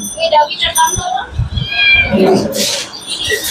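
A cat meows repeatedly amid the bustle of an animal market in Katabon, Bangladesh, with people talking nearby and a busy crowd in the background.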